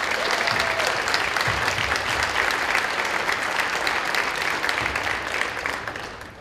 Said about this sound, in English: if we can give a round of applause to Mr. Ireland